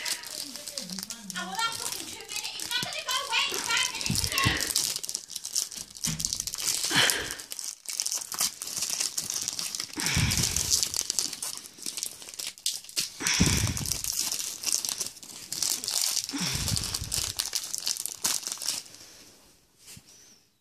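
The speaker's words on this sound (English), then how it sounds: "let's get the first pack open" A Match Attax England trading card pack is torn open with crinkling, tearing foil and paper rustles, close and continuous, while a voice talks over much of the handling.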